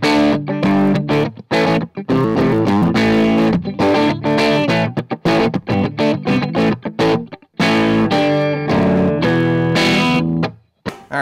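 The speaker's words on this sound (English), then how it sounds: "so now I got the gain right around that 10 o'clock position" Electric guitar through an Orange Micro Dark amp with the gain near 10 o'clock, giving loud, slightly overdriven chords in choppy strummed bursts with brief gaps between them.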